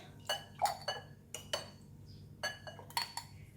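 A metal spoon clinks repeatedly against a glass bottle and jar while homemade garlic oil is spooned into the bottle, giving about nine sharp, close taps at irregular intervals over a quiet background.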